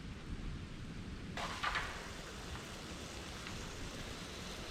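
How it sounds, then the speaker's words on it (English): Rain beginning to fall at a tarp campsite in the Watagans, a steady broad hiss of drops that thickens suddenly partway through, with a few brief louder patters, continuous and close. "it's starting to bloody rain"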